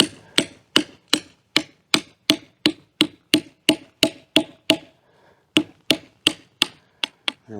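Steady series of sharp metallic-and-wood strikes from a Gransfors wildlife hatchet used as a hammer to forge a fire poker over a campfire, about twenty-five evenly spaced blows close by with a brief pause near the middle.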